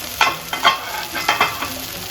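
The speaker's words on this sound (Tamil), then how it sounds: "போட்டுட்டு ஒரு வாட்டி நல்லா வதக்கி விட்டுக்கோங்க." Tomato and masala sautéed in a pan for beef chukka, with a soft sizzle under a few quick scraping stirs of a spatula.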